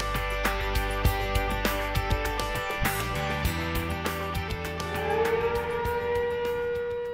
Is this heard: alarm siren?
yes